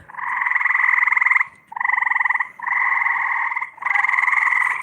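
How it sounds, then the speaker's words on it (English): Frogs on water at night croak in long, loud trilling bursts, four close rolls separated by short pauses, with no voices. "They're frogs."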